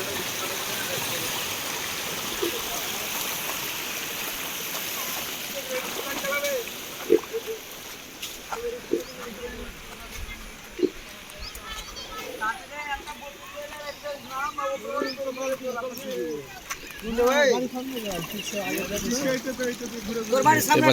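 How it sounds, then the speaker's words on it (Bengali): Floodwater rushes continuously through a village culvert at Pulintola, Dakshin Chandipur, a steady loud watery roar throughout, with a voice talking over it. "তোমাদের দেখাচ্ছি কত স্পিডে জল ঢুকছে আমাদের গ্রামের ভিতরে।"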